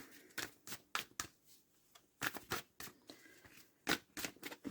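Oracle cards being shuffled and cut ahead of a nine-card reading, a series of quick papery riffles and slaps in irregular bursts, close and fairly loud with no talking.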